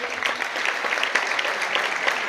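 Loud, dense applause from the audience at a Galician men's basketball cup final, greeting the referee as he is introduced; sustained clapping with no voice over it.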